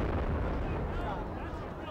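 Explosion near the Boston Marathon finish line on Boylston Street, heard as a sustained, dense low rumble and roar filling the whole moment, with crowd noise and voices mixed underneath.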